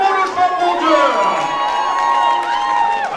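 A lively crowd at a motorsport awards party cheers and shouts with excited voices overlapping continuously, loud and close, with whoops rising above the general din.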